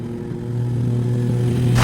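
A 2026 Suzuki Gixxer FI 155 motorcycle idles close by with a low, steady engine thrum that grows slightly louder, ending in a short burst of noise.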